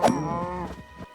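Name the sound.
cows mooing in Minecraft video game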